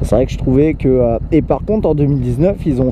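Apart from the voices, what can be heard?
No everyday noises stand out.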